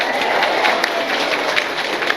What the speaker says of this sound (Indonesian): tepuk tangan disit kok